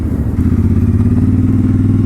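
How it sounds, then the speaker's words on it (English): A CFMOTO 450MT motorcycle with its stock exhaust idles or cruises nearby, giving a loud, steady, throbbing engine rumble with a fast pulsing beat throughout. "Sounds pretty awesome too with that stock exhaust."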